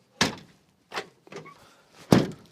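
Several separate thuds and knocks of a Citroen Jumpy 2.0 HDi van's sliding side door being moved and shut, spaced irregularly and heard up close.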